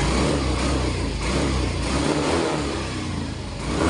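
A Yamaha Mio i 125 scooter engine with an ignition or fuel fault is revved on the throttle, a loud, close, rough mid-pitched roar that surges and sputters unevenly rather than holding a clean rev.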